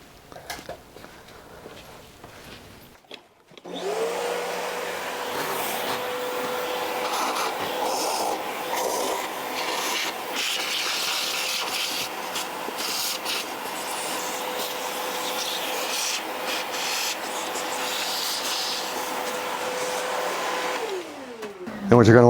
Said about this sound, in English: Then I'll go ahead and get the vacuum cleaner.